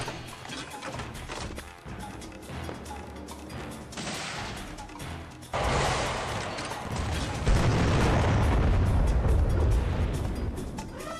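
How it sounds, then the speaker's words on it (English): Video game rocket launcher firing a cluster of four small rockets around a central main rocket, giving a dense, rumbling barrage of blasts that swells into a sustained roar of explosions. "Instead of firing a singular rocket, it fires a cluster comprised of 4 smaller explosives and the main artillery in the center of it all."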